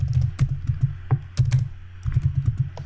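Quick clusters of keystrokes clatter on a computer keyboard nearby, typed in short bursts with brief pauses, no talking.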